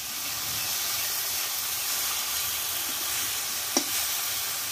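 Two tomatoes cook down in a hot pan for a Bengali tomato bharta, giving a steady, close sizzle and hiss, with one brief clink of a utensil partway through.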